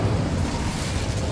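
Incendio fire spell cast in Hogwarts Legacy, a loud, dense burst of whooshing flame and rumbling low boom that fills the whole moment, with no talk over it.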